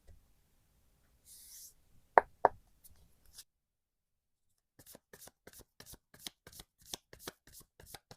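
Tarot cards are shuffled close up in a quiet room, starting with a few soft taps and riffles, then a rapid series of crisp card flicks and snaps as the deck is worked.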